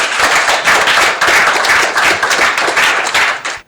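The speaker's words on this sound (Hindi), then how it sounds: "जोरदार तालियों से मंच पर आमंत्रित करूंगी" Loud, dense audience applause with clapping across the whole stretch as a poet is called onto the stage at a Hindi poetry gathering, cutting off abruptly at the end.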